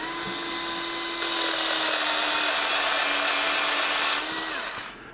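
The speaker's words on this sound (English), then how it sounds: "So the device has a built-in sharpener. So if you want to resharpen it, you just activate it." A HOTO EdgeFlow cordless electric scissors runs its built-in blade sharpener, giving a steady high-pitched motor whine for about four seconds that grows slightly louder midway before spinning down.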